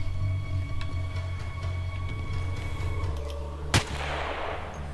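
A single sharp sniper rifle shot in the Battlefield 2 Omnicide mod, one loud crack near the end over a steady game hum of engine drone and ambient tones, with no talk.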